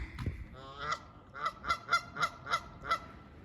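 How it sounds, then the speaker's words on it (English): Ducks call near a pond, a run of about seven evenly spaced, loud honking quacks following a few softer, drawn-out calls, with no voices over them. "The beautiful ducklings."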